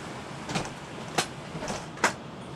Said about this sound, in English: one second, my door's blown open.